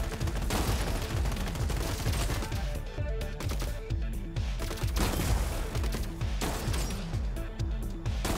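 Robots fire shotguns in the video game Gladiabots, a dense, loud barrage of overlapping blasts and bursts that continues without pause.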